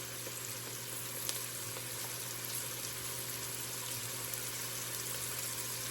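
Tube tomato paste, about a tablespoon, sizzling steadily in a hot pan, a continuous close crackle and hiss with no talk over it.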